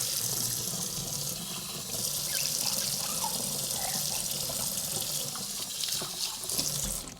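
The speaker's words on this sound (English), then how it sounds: "Quick wash up." Tap water runs steadily into a kitchen sink while a jug used for coffee ice cream is rinsed and washed, with faint clinks and splashes throughout and no talking.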